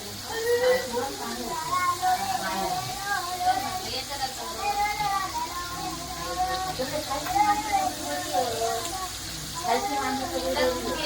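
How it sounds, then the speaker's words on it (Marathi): Karanji pastries frying in hot oil for Diwali: a steady, continuous hiss and sizzle throughout, with a voice speaking over it. "आता ही करंजी सोडली आहे तेलामध्ये"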